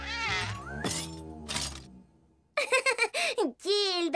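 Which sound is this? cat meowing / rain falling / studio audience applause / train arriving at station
cat meowing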